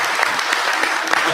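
An audience applauds steadily at a political gathering where APRC's coalition with NPP is discussed, a dense wash of clapping with no voices over it.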